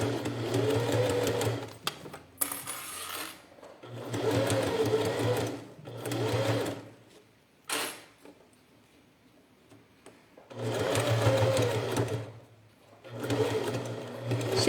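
A sewing machine stitching a plastic pencil case, running in several steady bursts of rapid ticking separated by pauses, close and clear with no talking.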